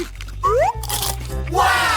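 Crispy chicken gets bitten and chewed with a few short, close crunches, mixed with voices and gliding, tonal background sounds.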